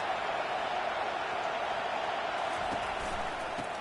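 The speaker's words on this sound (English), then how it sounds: "They are pinned deep, and this crowd is letting them have it." Stadium crowd at a college football game jeering the team as it is pinned deep in its own territory, a steady, dense roar of many voices filling the whole stretch at constant loudness.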